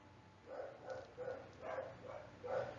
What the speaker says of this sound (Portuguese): os cachorros estão me deixando doido aqui